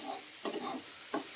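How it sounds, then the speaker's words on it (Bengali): Onion fries in oil with a tempering of dry red chilli and bay leaf for potato dum, a steady close sizzle broken by two brief scraping stirs of a spatula in the pan. "পেঁয়াজ আর শুকনো লঙ্কা আর তেজপাতা ফোড়ন দিয়ে পেঁয়াজটা ভাজা হচ্ছে আলুর দমের"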